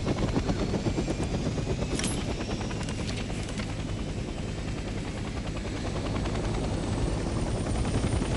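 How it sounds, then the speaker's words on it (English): Helicopter in the World War II game Hell Let Loose, its engine running as a loud continuous rotor throb and whine that fills the whole stretch, with a few sharp clanks early on. "Let's start by getting in the pilot seat and turning the engine on."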